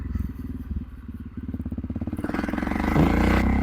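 Honda FMX 650 single-cylinder motorcycle engine opens up with a heavy thumping exhaust pulse, revs climbing steadily and growing louder, close up with some mechanical clatter.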